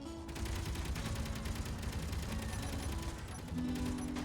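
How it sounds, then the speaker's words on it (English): Dense gunfire from many bullets in the video game Space Engineers, a continuous rattling fusillade with mechanical clatter and tonal game hums, steady and loud for several seconds, no talk. "What is happening? There's so many bullets."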